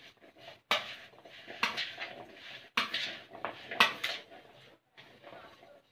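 Chana chaat is mixed with salt, chili, crushed red pepper and chaat masala in a bowl, giving a series of close clinking and scraping strokes of a spoon against the dish in irregular bursts.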